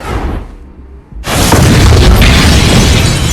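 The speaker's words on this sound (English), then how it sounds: "An explosion emits from Tuco's office and all the windows break." An explosion in a drug lord's office in a Breaking Bad scene blows out all the windows, a sudden loud boom followed by a sustained roar of shattering glass and debris that fills the rest of the moment.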